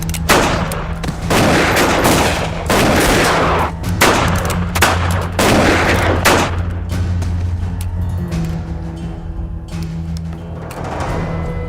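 In a Western shootout, gunshots ring out in loud bursts of rapid, overlapping gunfire close by, separated by short gaps and a low, steady hum, with the firing thinning out toward the end.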